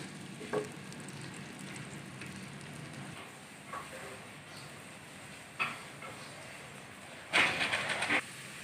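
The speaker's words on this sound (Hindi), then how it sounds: "प्याज को अच्छी तरह ब्राउन कर लेंगे।" Chopped onions fry in a pan until brown, making a low, steady sizzle. A few soft clinks are heard while they are stirred, and a brief louder burst of hissing comes near the end.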